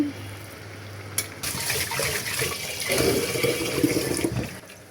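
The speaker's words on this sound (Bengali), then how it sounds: "তো চালগুলো ভালোভাবে ধুয়ে নিচ্ছি।" Rice grains washed in water in a home kitchen, with close, steady swishing and splashing that swells and churns for several seconds, plus a sharp knock near the start.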